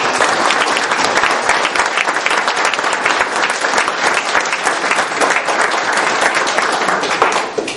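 Sustained, loud clapping from a crowd applauding political candidates at a Newtown, Connecticut forum, a dense unbroken wash of hands throughout, easing slightly at the end.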